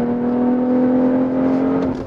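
BMW X3 M40i engine pulling steadily through a corner, a loud sustained drone with a constant low tone, the pitch lifting slightly near the end, heard on its own with no talk.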